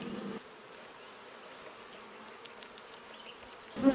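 Honey bees buzz faintly around a newly set-up hive, a soft continuous hum with a brief louder knock at the start and end.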